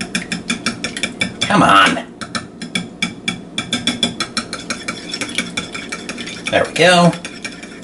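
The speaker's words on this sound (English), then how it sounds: "Take my whisk and beat the eggs." Eggs beaten with a whisk in a large container, a fast steady run of rattling clicks close by, with brief talk mixed in twice.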